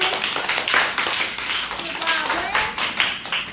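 Schoolchildren in a 4th–5th grade Telugu class clap together in quick, uneven bursts, close and fairly loud, with voices mixed in among the claps.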